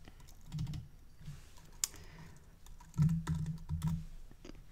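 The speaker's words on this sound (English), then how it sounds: "And so then you type in your first item" A computer keyboard sounds close by with soft, irregular clicking keystrokes that come in short bursts, with no talking.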